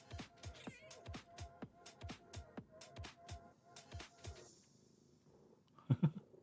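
A cat meows faintly a few times at a workbench where gaming mice are being modded, amid a run of sharp clicking noises, with a louder burst of sound near the end.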